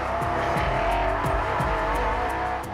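Race cars lap a circuit during the Tour Auto rally, engines roaring loudly and continuously with rising and falling revs and gear changes, a dense, close mechanical drone with no voices.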